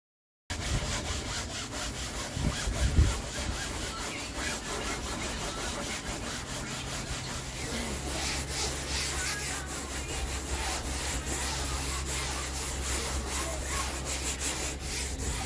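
Steady abrasive rubbing of sanding and fairing on a boat hull carries on continuously and fairly close, with a low droning hum running underneath and a brief knock near the start.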